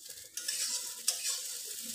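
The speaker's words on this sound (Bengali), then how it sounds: "চালটা তো বেশ একটু ভাজা ভাজা হয়ে গেছে" Rice fries and is stirred in a pan: a light sizzle with scraping stir strokes, two sharp onsets of louder frying, close and without talk.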